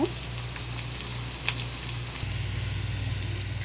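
Small mola fish frying in a pan with a little salt, browning lightly, give a steady, even sizzle with a low hum beneath and no talking.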